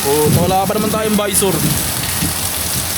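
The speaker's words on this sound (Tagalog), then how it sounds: "Sobrang lakas ng ulan na." Heavy rain pours down during a motorbike ride in Bali, a steady loud wash of rain and wind noise throughout, with people talking over it.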